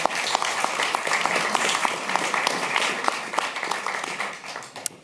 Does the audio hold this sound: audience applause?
yes